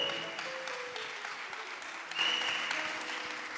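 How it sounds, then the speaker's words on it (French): A church congregation applauds, a steady wash of clapping that swells slightly midway and carries on throughout. "Acclame bien, acclame bien,"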